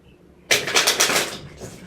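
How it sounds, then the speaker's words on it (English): A deck of tarot cards is shuffled in one quick riffle, a sudden burst of rapid papery flutter and clicks that lasts about a second after near silence, then fades. "I'm just going to shuffle the deck"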